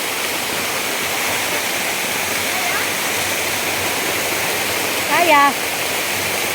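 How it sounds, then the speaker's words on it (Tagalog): Kasili Falls waterfall heard from above the falls, a loud, steady rushing roar filling the whole clip, with a brief spoken word near the end. "Oh, dito na ako sa itaas ng Kasili Falls."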